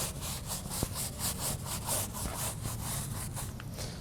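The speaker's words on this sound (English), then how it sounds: "grab my big blue stiffy wheel brush, grab some suds, and then just start scrubbing the surface of the tire" A stiff wheel brush scrubs a sudsy car tire in rapid back-and-forth strokes, a close, rhythmic rasping with no talk.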